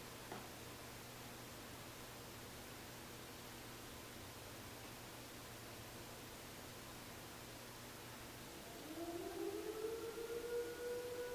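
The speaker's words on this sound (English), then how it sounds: "in my town, that siren means it's 6 o'clock at night" A distant town siren sounding at 6 p.m. slowly winds up near the end, a faint rising wail above steady background hiss.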